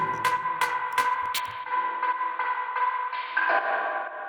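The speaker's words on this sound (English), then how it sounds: "this fill with a bunch of spring reverb" A short musical fill of sharp plucked hits in an organic house track rings out into a splashy, metallic spring reverb tail that hangs and shimmers before fading.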